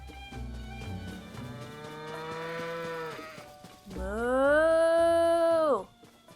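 Cows mooing in Hateno pasture in the video game Tears of the Kingdom: two long, loud, drawn-out moos, the second higher and louder, close and clear with no talking.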